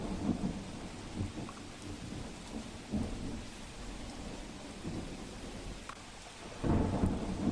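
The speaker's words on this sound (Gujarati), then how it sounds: "ક્યાંક ધીમી ધારે વરસાદ તો ક્યાંક ધોધમાર વરસાદ પડી રહ્યો છે" Heavy rain pours down steadily in Lakhani, Banaskantha, Gujarat, while deep thunder rumbles now and then, swelling louder near the end.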